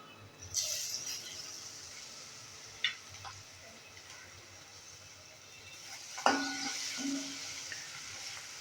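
Garlic frying in a pan on high heat for whole masoor curry, a soft steady sizzle with occasional sharp clinks of a spoon against the pan.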